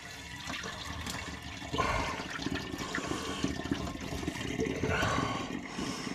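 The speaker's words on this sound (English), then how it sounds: "I'm gonna go ahead and just start with dumping that into my bottle." Pear juice is poured through a funnel into a gallon bottle for homemade pear wine. A steady, close gushing of liquid runs throughout and swells louder partway through.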